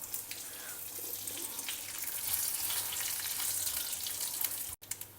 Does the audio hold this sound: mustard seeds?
yes